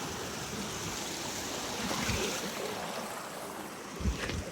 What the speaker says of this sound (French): On va remonter un peu le torrent pour voir à quoi ça ressemble.